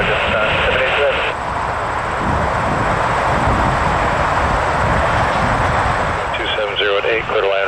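Airplane landing at Toronto Pearson airport, a loud, steady jet engine roar that dominates throughout with broad rushing noise, while air traffic radio chatter comes through faintly at the start and end.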